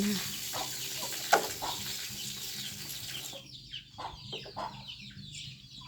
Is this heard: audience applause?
no